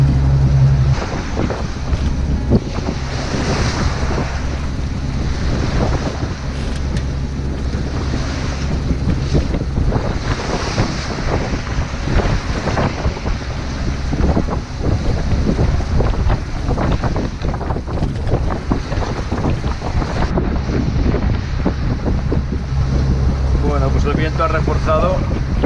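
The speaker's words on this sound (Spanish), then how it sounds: "la mar se ha puesto un poquito brava, claro, lógicamente, a los que estoy acercando aquí a esta isla" Rough seas slap against an Island Packet 40 sailboat cruising near Japan's Gotō archipelago in 18-20 knot winds, with constant loud wind buffeting the microphone and rushing waves throughout. A voice speaks intermittently over the noise.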